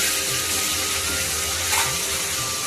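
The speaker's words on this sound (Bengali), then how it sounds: "এখানে মাছ ভাজা হইতেছে" Fish frying in oil in a village kitchen, a steady loud hiss and sizzle with faint crackles throughout, and no talking.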